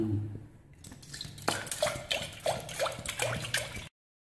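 Water pours into a cooking pot in a steady splashing, gurgling stream, close and continuous, with drips and bubbly sloshes rising as the pot fills before the flow stops abruptly; no one speaks.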